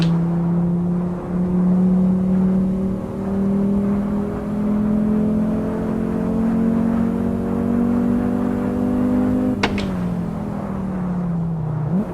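Volkswagen Golf Mk7 in the racing game Assetto Corsa: the engine drones and slowly climbs in revs, lets out one sharp exhaust crackle near the end, then the revs drop away. No one speaks.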